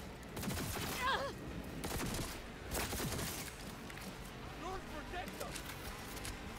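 Gunfire bursts in Cyberpunk 2077 crack out in a few clustered volleys over the first three seconds, loud and close, mixed with game noise and voices talking throughout.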